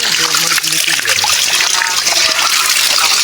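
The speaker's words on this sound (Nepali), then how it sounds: "ल है शुद्ध पानी आउने ठाउँ" Clean spring water flowing steadily at a rural water source, a close, continuous trickling and gushing with faint voices underneath.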